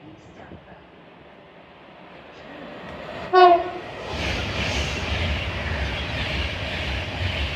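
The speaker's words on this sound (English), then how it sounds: "And there goes a Pendo, and on this platform is 73236 going to London Euston." A Pendolino passenger train at Watford Junction sounds a short, loud horn blast, then rushes through with a steady, close, rumbling roar that builds and carries on to the end.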